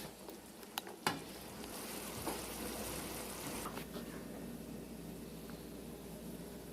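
Seasoned ground meat for taco salad cooks in a pan, giving a continuous soft sizzle with a couple of sharp clinks near the start.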